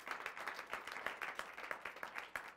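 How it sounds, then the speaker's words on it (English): Studio audience of a talk show claps steadily for a couple of seconds, a fairly quiet, even patter of applause heard alone without voices. "Clap it up for them."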